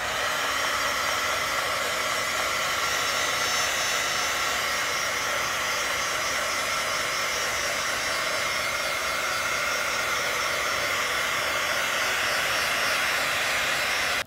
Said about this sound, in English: And take our heating tool